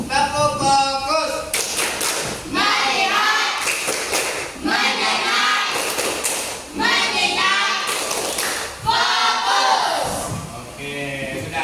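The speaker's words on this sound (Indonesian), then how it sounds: "Tepuk fokus." A standing classroom of students runs the 'tepuk fokus' focus-clapping routine, chanting together in loud, rhythmic bursts punctuated by sharp group claps, with voices filling nearly the whole stretch.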